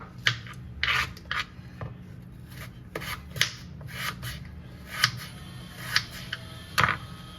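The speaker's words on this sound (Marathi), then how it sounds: "हे बघा, आणि ह्याच्या बारीक फोडी करायच्या." Pumpkin being cut into small pieces with a knife, a run of sharp, uneven chops and scrapes against a board at close range, with short pauses between strokes.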